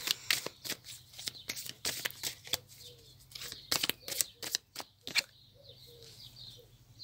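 Tarot cards being shuffled in quick, crisp bursts of riffling and flicking, close and fairly loud, with brief pauses between handfuls and a faint steady hum underneath.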